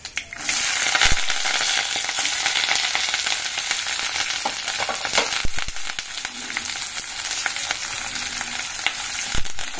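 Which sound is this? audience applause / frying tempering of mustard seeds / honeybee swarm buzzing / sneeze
frying tempering of mustard seeds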